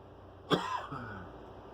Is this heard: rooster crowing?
no